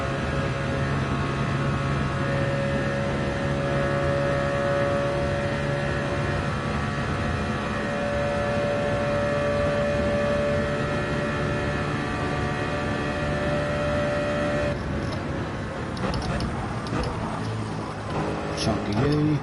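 A race car engine in Gran Turismo 7 held at high revs through a corner, a steady loud droning whine with a shift in tone near the end, under continuous talking.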